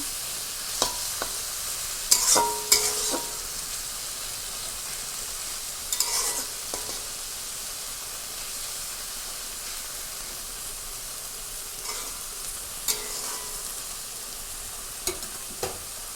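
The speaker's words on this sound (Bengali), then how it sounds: "এখন একটু ভাজা ভাজা, আর ঢাকা দেবো না" Leafy greens fry in an uncovered pan, giving a soft, continuous sizzle broken by occasional sharp clinks and scrapes of stirring, close up with no talking.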